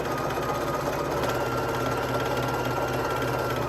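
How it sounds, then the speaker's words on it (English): A sewing machine runs continuously, stitching quilt pieces along both sides of a center line with a steady, close, rapid mechanical whir and rhythmic needle chatter, with no talk. "We are going to sew on both sides of that line."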